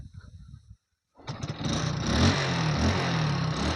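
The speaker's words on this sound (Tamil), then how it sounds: "கிக் ஷாட்டும் பண்ணி காமிக்கிறேன் உங்களுக்கு" A motorcycle is kick-started after a brief silence and its engine catches at once, then runs steadily with a loud, rough, continuous idle close by.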